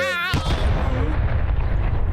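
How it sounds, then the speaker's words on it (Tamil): A cartoon cup bursts in a sudden loud boom after a brief tonal sound, followed by rumbling, crackling debris under voices talking. "அந்த கப்பு வெடிச்சிருச்சு"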